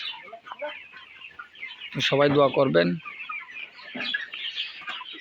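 Broiler chickens on a poultry farm cluck and call, one loud close burst in the middle with scattered softer clucks around it, while a person speaks briefly.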